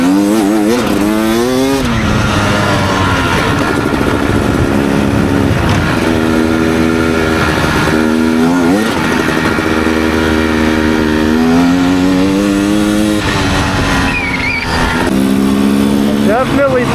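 Beta 300 Xtrainer dirt bike fitted with an FMF Fatty pipe, its two-stroke engine revving up and down repeatedly in rising and falling sweeps, close and loud, with someone talking over it throughout.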